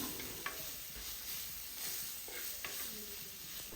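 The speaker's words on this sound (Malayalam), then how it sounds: "ഇനി ഈ ഉള്ളി ഒന്ന് കളറ് മാറിയിട്ട് നല്ലപോലെ ഒന്ന് സോഫ്റ്റ് ആകുന്നത് വരെ വഴറ്റിയെടുക്കണം" Onions sautéing in coconut oil in a clay pot hiss softly and continuously, with occasional light taps and scrapes of a spoon, fairly faint and with no one speaking.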